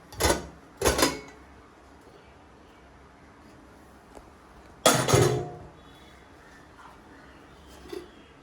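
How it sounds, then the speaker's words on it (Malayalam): A pressure cooker holding Kerala-style beef for pepper roast being opened, with three loud metallic clanks and scrapes of the lid and a small clink near the end, quiet between them. "ഇനി നമുക്ക് ഈ കുക്കർ ഒന്ന് തുറന്ന് നോക്കാം"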